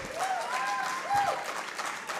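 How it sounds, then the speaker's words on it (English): Crowd at Kampala Impact Day 2023 gives a moderate, sustained round of clapping, with faint whistles or cheers rising briefly over it. "Round of applause for Mtindo."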